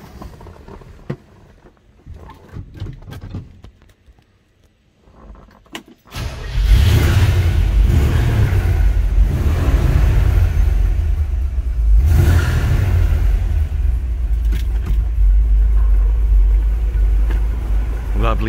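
After a quiet stretch with faint clicks, a classic car's 327 V8 engine cranks and fires into a deep, loud rumble, then revs up once and settles into a steady idle.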